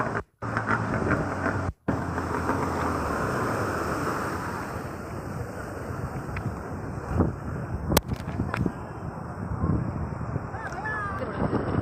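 A boat ride on the sea during Goa water sports, with steady wind and waves rushing past the hull throughout, a couple of brief dropouts, and a few sharp knocks and splashes near the end.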